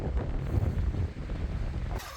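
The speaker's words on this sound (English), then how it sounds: "Always seems to be really windy when I'm up here." Strong wind on a mountaintop buffets the microphone in a low, rumbling roar that eases slightly before a brief gust near the end.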